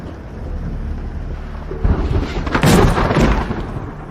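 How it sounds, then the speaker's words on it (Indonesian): A deep, loud rumble of thunder builds midway and rolls on with crackling bursts, over a steady background of wind or rain. "tepat saat suara guntur menggelegar"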